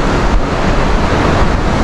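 Sea waves of the South China Sea at Teluk Ramunia, Desaru, washing in as a steady, dense broadband surf roar, with a little wind rumble and no distinct breaks.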